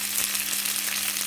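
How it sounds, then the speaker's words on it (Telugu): Tempering spices fry in oil for tamarind pulihora, giving a dense, steady hiss and crackle with a low hum underneath, close and continuous. "బాగా వేగిన చూడండి తాలింపు ఇలా బ్రౌన్ కలర్ వచ్చే వరకు"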